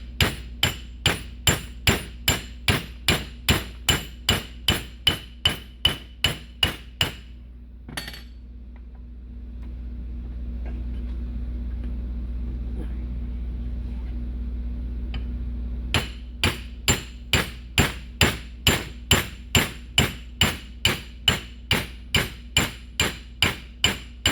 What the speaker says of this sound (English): you can put this in the vise and beat straight down